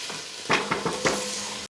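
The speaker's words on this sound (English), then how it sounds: "we're going to stir this around until this gets just a little bit translucent and slightly browned" Diced garlic and onions sauté in a pan while a utensil stirs them, producing four or five short scraping strokes over a soft, quiet sizzle, ending with a sharp click.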